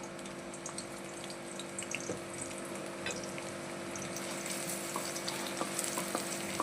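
Thinly sliced onions fry in a little oil for a mutton gravy, a steady, fairly quiet crackling sizzle that goes on with no talk over it.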